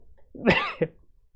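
A single harsh cough bursts out close by, followed a moment later by a shorter second cough, then quiet.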